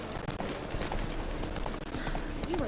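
Hoofbeats of Roach, Geralt's horse in The Witcher 3 video game, clatter at a steady quick clip-clop under a faint wash of ambient game sound, fairly soft and continuous throughout.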